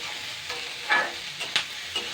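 Chopped onion and crushed garlic fry in a pan with very little oil, making a low sizzle broken by three or four distinct spoon scrapes. The sound is close, and there are no voices.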